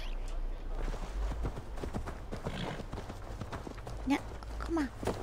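Horse hooves clip-clop in the Assassin's Creed Valhalla video game, a steady rhythm of hoofbeats under game ambience, with brief louder accents near the end.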